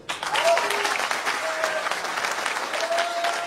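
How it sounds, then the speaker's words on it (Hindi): An audience at a legal advice talk applauds itself, dense continuous clapping from many people filling the room, with a faint voice tone briefly audible beneath the applause. "एक बार आप अपने लिए ताली बजाइए"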